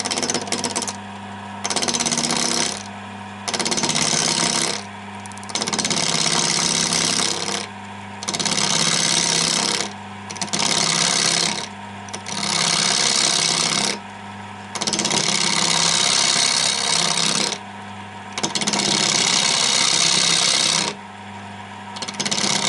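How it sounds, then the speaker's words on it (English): An eight-sided wooden dome spinning on a woodturning lathe as the tool cuts it round on each axis, giving loud broadband scraping bursts in repeated runs of a second or two, separated by short pauses. "all you're doing is turning it until it just becomes round on each axis."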